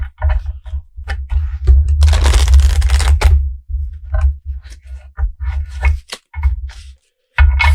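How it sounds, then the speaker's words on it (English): Tarot cards are shuffled by hand in a series of crisp riffles and slaps, with a longer burst of rapid flutter in the middle, close and fairly loud. "Excuse me while I shuffle."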